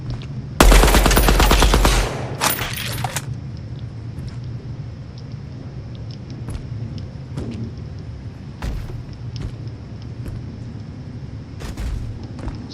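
Video game gunfire rips out in a loud, rapid automatic burst, then a shorter second burst, followed by scattered single sharp shots over a steady background hum.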